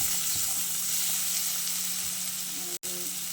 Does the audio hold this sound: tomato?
yes